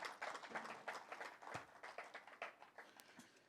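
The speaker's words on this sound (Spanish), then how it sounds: "Dale un fuerte aplauso al Señor en esta noche" Congregation clapping at an evening church service, a steady spatter of many hands at a moderate distance, fairly quiet, with no talk over it.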